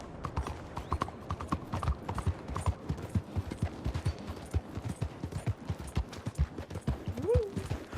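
Horse hooves clip-clop steadily on a road in the Red Dead Redemption II video game, an even rhythmic trot of close, crisp knocks, with a brief whinny near the end.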